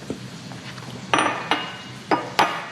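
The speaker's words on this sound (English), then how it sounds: "I'm gonna grab a bowl." A bowl is picked up and set down in a kitchen, giving several sharp ceramic clinks and knocks spread over a few seconds against a quiet background.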